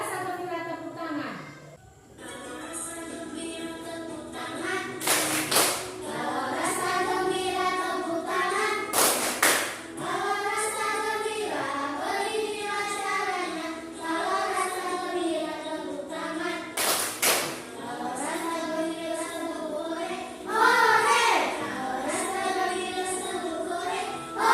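A group of children sings "Kalau Rasa Gembira" and claps in loud bursts at several points in the song, with a voice leading among them.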